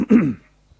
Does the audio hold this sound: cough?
yes